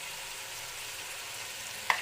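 Red chili and turmeric frying in a pan, a steady soft sizzle with faint stirring, ending in a brief clink near the end.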